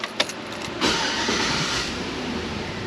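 The 5.3-liter LS V8 in a 2002-2006 Chevrolet Tahoe restarts: a few faint clicks, then the engine catches with a sudden rise into a steady, even idle that runs on near the listener.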